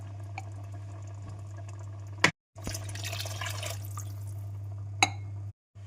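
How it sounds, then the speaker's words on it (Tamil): Water pours steadily into a cooking pot with rice for a few seconds, with a soft clink before and after and a low steady hum underneath. "ரெண்டு டம்ளர் தண்ணி ஊற்றிக்கலாம்."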